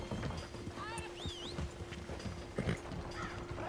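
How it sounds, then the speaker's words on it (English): Horse hooves in Red Dead Redemption 2 clip-clop in an uneven walking rhythm at moderate distance, mixed with ambient outdoor sounds and faint bird calls. "Let's hitch this horse and get this bounty."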